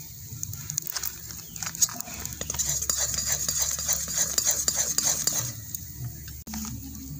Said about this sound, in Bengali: ময়দাটা দিয়ে ভালো করে একটু নাড়াচাড়া করে নেব